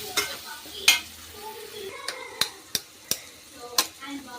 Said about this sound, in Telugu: ఇప్పుడు మనం కలుపుకోవాలి బాగా 2 మినిట్స్.